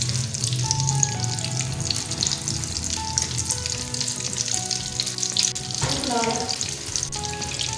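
Aloo tikki fry in hot oil with a loud, continuous crackling sizzle, and a brief burst of bubbling rises near the end.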